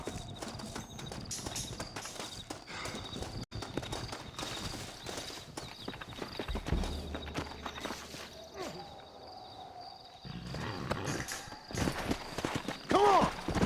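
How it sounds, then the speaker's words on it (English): Horse hooves clip-clop and gallop at a steady pace in the Red Dead Redemption video game, set in the Old West, moderately close, with game sound effects and brief voices around them. "Looks like Carlos left us some horses."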